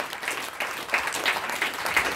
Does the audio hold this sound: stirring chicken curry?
no